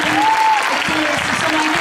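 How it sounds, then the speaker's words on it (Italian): An Italian audience applauds at a school performance event, dense continuous clapping throughout, with a voice faintly over it. "Credo che questo applauso debba andare anche ai professori che li hanno preparati"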